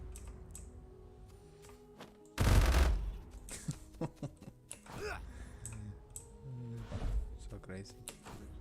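Gunfire from a newly built gun in a game under development: one loud, dense burst of shots, then scattered sharper reports, with a voice talking throughout.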